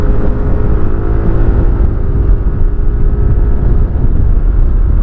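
A 2023 SYM ADX 125 scooter accelerating while riding uphill, a steady loud engine drone mixed with rushing wind noise, no talk heard.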